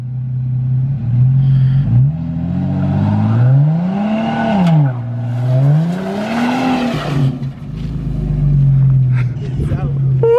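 A car engine is floored while the brake is held, then the wheels spin. It revs loudly in rising and falling sweeps with some tire whine, close up.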